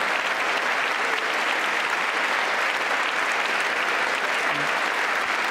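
Continuous, even applause from a large audience at President Biden's State of the Union address, a steady wash of clapping with no break.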